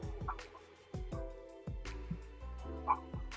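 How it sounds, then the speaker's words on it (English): A dog barks at something indoors, giving a run of about six or seven quick, fairly faint woofs with brief yips in between, heard at a distance from the microphone. "I don't know what she's barking at."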